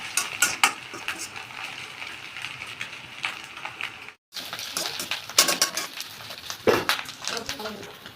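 Green chillies and curry leaves fry in an egg rice pan, with steady crackling sizzle broken by sharp utensil scrapes and clinks, a brief pause midway, then more stirring clatter.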